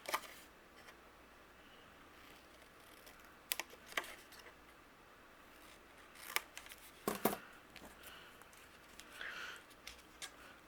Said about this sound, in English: I'm going to use my scissors, and we're going to create a fishtail banner at the very bottom